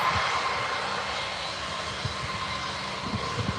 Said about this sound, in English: full throttle on a 787, and she's off